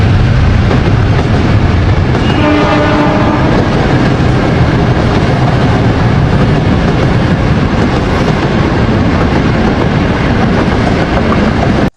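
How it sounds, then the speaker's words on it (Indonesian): Train rolling past for the whole stretch, a loud, steady broadband rumble with a brief clickety-clack of wheels on rail joints early on and no voices. "Kereta api."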